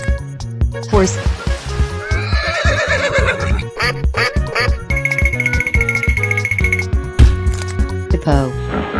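A horse whinnies amid a busy mix of cartoonish animal sounds, including quacking and clinking, over a playful backing track.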